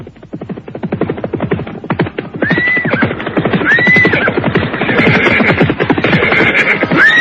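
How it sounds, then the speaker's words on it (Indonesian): A troop of cavalry horses arrives in an audio drama, with several loud whinnies rising over a dense, continuous rumble of galloping hoofbeats that grows fuller and closer after the first couple of seconds. "pasukan berkuda di bawah pimpinan Rabanyak dan Rapangsa itu telah tiba di tempat yang dituju"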